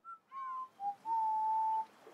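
A short whistled melody from the video game TOEM: a few clear, pure notes rising and dipping, ending on one long held tone, fairly quiet and alone.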